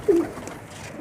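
One short, soft coo from a pet pigeon, close by against quiet background hiss.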